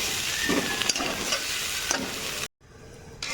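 Fried paneer, cauliflower and potato stirred into masala in a pan, a loud steady sizzle with stirring scrapes, briefly cut to silence before resuming more faintly.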